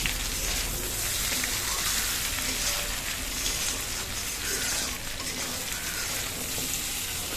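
Pointed gourd and shrimp curry being stirred in a pan over medium heat, a continuous wet sizzle with soft scraping of the spoon, close and steady without talk.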